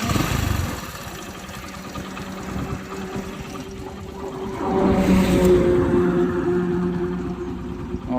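A 2017 Hero Splendor motorcycle engine runs with a steady low hum and chug that swells louder after a few seconds, heard close with no talking.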